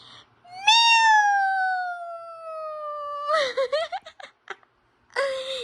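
A mother mimics a cat, holding a long sliding meow close to the microphone for nearly three seconds, then breaking into short choppy vocal bursts and one more brief meow-like call at the end.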